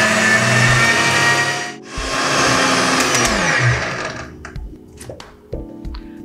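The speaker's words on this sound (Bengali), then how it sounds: "এখন সমস্ত উপকরণ আমি ব্লেন্ড করে নেব।" A blender whirs loudly while mixing Tang drink ingredients, a steady motor roar that stops briefly and starts again, then winds down into a few clunks and soft knocks.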